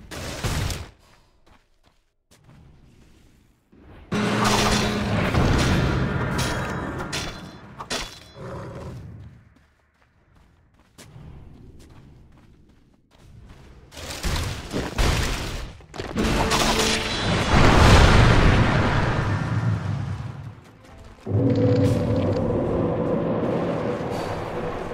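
Dota 2 match combat as a tower comes under attack: bursts of crackling impacts, roaring and clattering effects come in loud waves with short quieter gaps between them.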